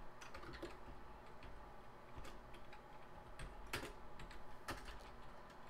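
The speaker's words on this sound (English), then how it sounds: "I'll just type that in" Typing on a computer keyboard during a statistics lesson, with scattered quiet key taps in an irregular rhythm over a steady low background hum, close but faint.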